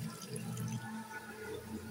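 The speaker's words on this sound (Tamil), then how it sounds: "இப்போ காய்க்கு தேவையான தண்ணி நம்ம கொஞ்சம் ஆட் பண்ணிக்கலாம்." Water pours steadily into a cooking pot of vegetables for rasam, a soft continuous splashing and trickling, close and fairly quiet, with no talk.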